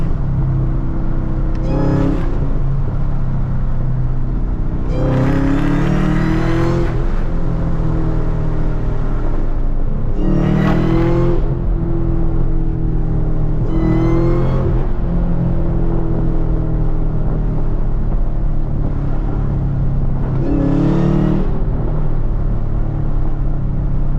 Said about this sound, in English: Well, look, that downshifting.